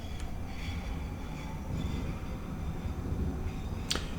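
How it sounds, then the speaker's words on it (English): An 81-760 metro train rolls along in the Metrostroi rail simulator game, a continuous low rumble of running gear and motors with faint tonal whine and a brief sharp squeal near the end. "And as you can see, the train moves."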